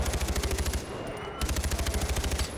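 Rapid automatic gunfire rattles in steady bursts in the video game Far Cry 4, with a brief pause in the middle before the fast, loud firing resumes.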